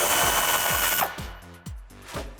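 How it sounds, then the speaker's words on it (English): Impact gun with an 18mm socket rattles a nut off the quad shock stud on a 1994-2004 Mustang, a loud burst that spins down into a few rapid ratcheting hammer blows. "I'm just gonna remove that nut and take the quad shock off of that stud."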